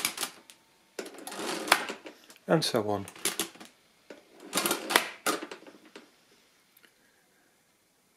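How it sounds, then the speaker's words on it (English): A Monroe mechanical calculator, Model K, KA or L, clatters in bursts of dense mechanical ratcheting as its crank is turned, close and loud, alternating with someone talking. "if you turn the crank, it gets added to the register and the counter is incremented by one"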